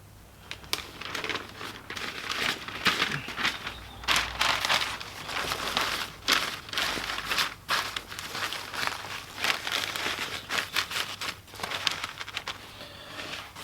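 Fishing bait for cod, meant for beach fishing on Chesil Beach, is wrapped in a clean sheet of paper, giving steady close crinkling and rustling with irregular bursts throughout and no talk.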